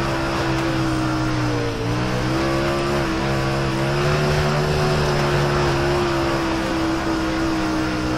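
A super late model race car engine held at full throttle in iRacing, a loud, steady, droning roar with a slight pitch dip and recovery, alone without talk.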